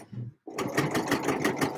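Sewing machine stitching a skirt seam, starting after a brief pause and then running in a fast, even run of close, rhythmic needle pulses.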